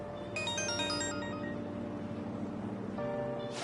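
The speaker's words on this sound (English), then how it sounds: "My father's calling." A phone ringtone in the video game Persona 5 Royal plays as a bright, clear melodic jingle that rings out alone at steady volume, with a brief fresh chime near the end.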